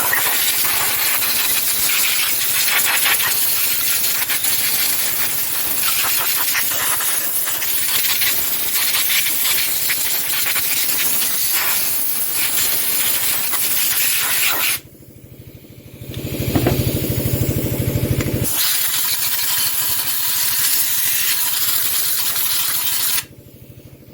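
A pressure spray hisses steadily while cleaning the coolant fins of a Lister diesel engine, a continuous loud broadband rush that cuts off briefly near the end before resuming.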